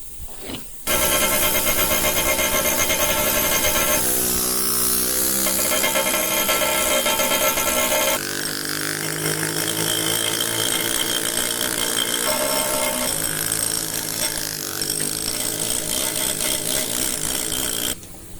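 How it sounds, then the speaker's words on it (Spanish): A small bush hammer texturing the face of a granite relief headstone, a steady rapid mechanical rattle of dense tapping that runs loud and unbroken nearly the whole time, shifting tone midway. "Aquí tengo esta pequeña martillina para continuar con el abujardado."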